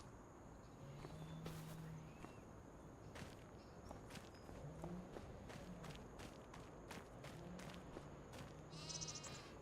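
Sheep bleat several times across a pasture in Farming Simulator 25, on the Drumard Farm map, with a steady ambient bed and footsteps crunching along underneath, the bleats moderately close and spaced irregularly.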